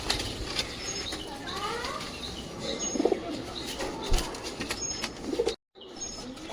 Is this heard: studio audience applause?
no